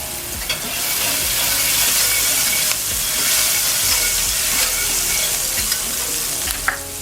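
Sauteed onion frying in a pan for white peppered gravy, a dense continuous sizzle with scraping stirs and a few sharp clinks, close and fairly loud, no voices.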